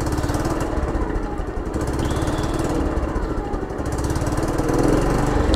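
A motorcycle engine idles steadily after the throttle is rolled back to zero, giving a continuous, fairly loud low rumble with a slight rise near the end and no talking.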